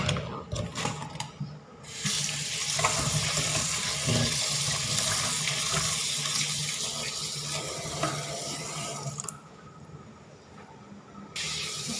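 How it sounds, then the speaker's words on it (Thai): Small frogs are rinsed clean of slime under a running tap, the water a steady, close rushing splash that shifts in tone as hands move through the stream for the whole stretch, with no voices. "เวลาล้างมันก็สะอาดนะเรียบร้อยเองพอมีเหมือกมันต้องล้างออก"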